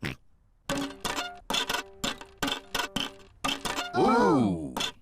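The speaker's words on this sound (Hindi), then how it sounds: "वायलिन बजाना बहुत मुश्किल है।" Scratchy, squeaky violin notes played badly by a cartoon character in short uneven strokes, ending in a wobbly, sliding screech; clumsy and close.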